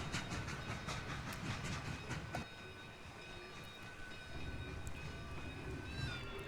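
A simulated locomotive in the video game Trainz 2022 creeps into a siding on the Eagle River route, with a steady rumble, wheel clatter and thin high squeals holding at a moderate, even level throughout.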